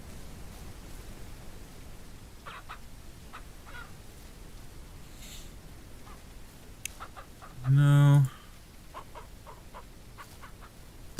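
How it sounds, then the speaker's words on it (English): Hens in the farming video game Ranch Simulator cluck in short, scattered bursts over a quiet background, with one brief louder tonal sound in the middle and a single short spoken word. "This is a lot of hens."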